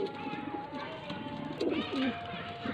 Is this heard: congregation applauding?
no